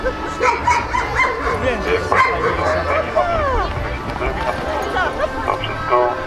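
A dog barking and yipping during an obedience training demonstration, short repeated barks and whimpers mixed with someone talking steadily over a noisy crowd.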